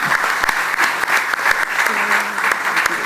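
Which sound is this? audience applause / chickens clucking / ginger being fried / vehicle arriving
audience applause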